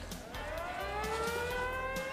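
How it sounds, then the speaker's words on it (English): An ambulance siren wails at a distance, its rising and falling tone sweeping steadily throughout, with low street rumble beneath and no talking. "It's an ambulance or something."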